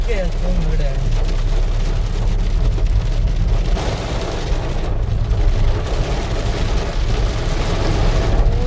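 Heavy rain pours down in a dense, steady roar, with voices talking over it throughout.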